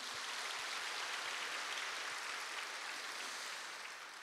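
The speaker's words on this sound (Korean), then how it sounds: "동산의 가족이 되신 분들에게 마음을 담아 박수로 환영하겠습니다" A church congregation gives a steady round of applause to welcome new members, a soft, even wash of many hands clapping, fairly distant and without speech.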